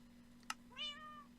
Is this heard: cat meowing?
yes